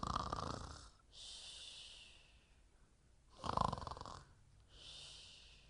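Several people imitate snoring aloud during a children's story session, giving two drawn-out breathy snore sounds with a pause between them, each followed by a softer airy exhale.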